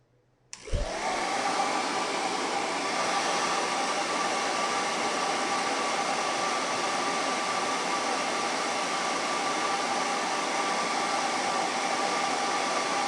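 A heat gun blows steadily on a Ninja blender lid, a loud, even, broadband rushing hiss that switches on sharply near the start and holds without change for the rest of the stretch, with no talking.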